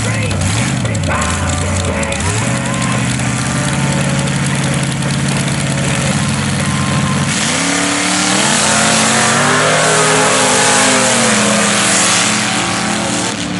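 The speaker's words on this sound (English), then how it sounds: "Side by side, mud racing action in our B class, our tractor class." Tractors in the tractor class of a mud bog race at a summer festival in Quesnel, B.C., with big old-school tires, rev loudly and continuously, engine pitch climbing and shifting as they power through the mud, with an announcer talking over it.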